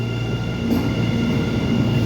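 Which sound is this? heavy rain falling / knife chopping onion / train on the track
train on the track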